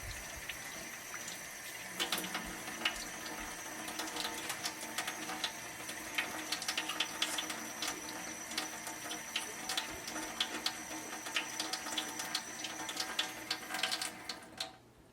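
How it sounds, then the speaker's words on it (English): Tap water runs steadily into a kitchen sink while hands are washed during a food demonstration, a continuous splashing hiss with small clatters, fairly close and with no talking. "scrub your hands for at least 20 seconds, rinsing them with clean water, and using a paper towel to turn off the tap"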